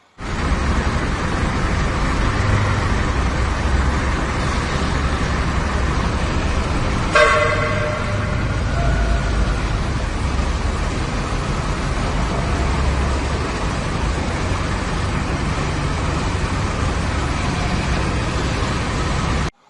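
A bus horn toots once briefly amid loud, constant rumbling crowd and engine noise as a bus squeezes in under a low roof at an entrance area of GBK stadium.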